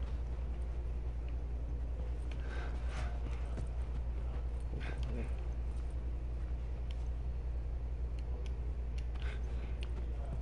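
Horses' hooves pound steadily in The Last of Us Remastered, a dense, continuous clatter of galloping mixed with the game's ambient rumble, holding at an even level throughout.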